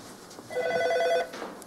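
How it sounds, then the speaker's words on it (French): A telephone rings once in a short electronic trill, a steady warbling tone lasting under a second, moderately close in a quiet indoor setting, with no talk over it. "je dois d'abord répondre au téléphone"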